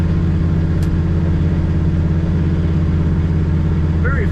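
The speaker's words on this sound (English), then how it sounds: "Great exhaust sound out of this Camaro" Deep, steady idle burble from the exhaust of a 1968 Chevrolet Camaro, a loud close rumble with an even pulsing rhythm throughout and a faint brief voice near the end.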